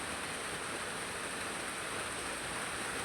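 Steady, even hiss of rain falling, soft and constant with no other sounds.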